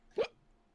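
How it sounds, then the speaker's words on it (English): A single short hiccup, close and fairly loud, breaks a quiet pause in a casual conversation, with no talk heard over it. "Hiccup."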